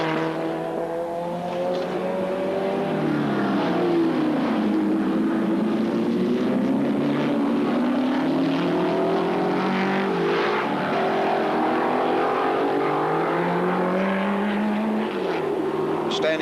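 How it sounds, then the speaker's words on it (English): Mercedes-Benz desmodromic straight-eight racing car at a Grand Prix circuit, its engine howling loudly and continuously as revs climb and fall through gear changes over a steady crowd-and-track background. "you can listen to this sound, this marvellous Desmodromic straight 8 Mercedes-Benz"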